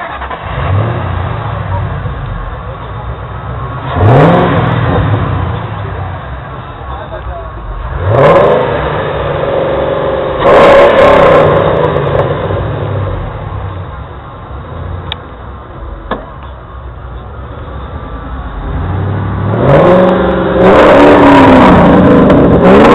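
Engine and exhaust of a blue 2006 Ford Mustang revving repeatedly, four sharp rising bursts with throaty exhaust roar separated by idle, loud and close, with a voice speaking between revs.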